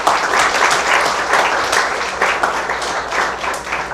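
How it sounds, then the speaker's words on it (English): Sustained audience applause fills a lecture hall, a dense steady wash of many hands clapping with slight swells, loud and close throughout. "So please applaud her."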